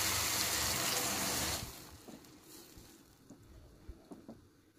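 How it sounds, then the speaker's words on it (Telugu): A large glass of water is poured into masoor dal cooking in a pot, a loud gushing splash for about a second and a half, then faint bubbling and a few soft clinks. "ఇందులో ఒక పెద్ద గ్లాస్ వాటర్ యాడ్ చేసుకోవాలి"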